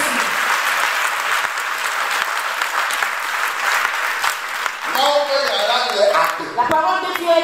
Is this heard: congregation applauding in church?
yes